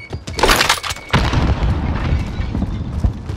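A grenade blast booms loudly in Call of Duty Modern Warfare multiplayer, a sharp burst followed by a second heavy detonation and rumbling debris that lingers across the whole moment.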